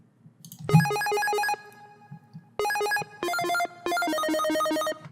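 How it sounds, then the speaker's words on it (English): A bright, buzzy 8-bit synth lead plays chiptune-style melodic phrases in bursts, separated by short pauses, loud and upfront. "This next thing I have is a really interesting trick. It's this 8-bit lead."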